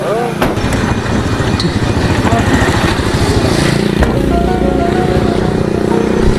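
An old, broken-down motorbike runs loud and steady in a continuous rough engine drone, close by at a village procession, with voices and crowd noise mixed underneath.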